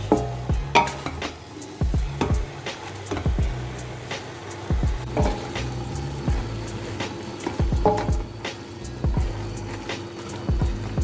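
Spinach wilting in an open pot is turned over and over, giving a soft steady sizzle punctuated by regular low knocks and scrapes of the spoon against the pot, close and without speech.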